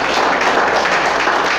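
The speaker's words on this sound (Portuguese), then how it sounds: "Vamos aplaudir o Senhor" A church congregation applauding during a worship service, a steady loud roar of many hands clapping together that fills the whole stretch without a break.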